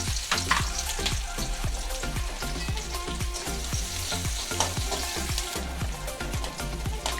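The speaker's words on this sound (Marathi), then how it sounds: "त्यामध्ये आता कांदा भाजून घ्यायचे" Onions fry in hot oil for a spinach gravy, a steady close crackling sizzle with repeated soft stirring scrapes running throughout.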